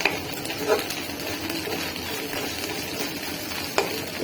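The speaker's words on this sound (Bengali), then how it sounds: "এবার সব শাকটা ভাজি করতেছি" Leafy greens frying in a pan with drumstick, tomato and shrimp, a soft steady sizzle with faint stirring clinks, close by and fairly quiet.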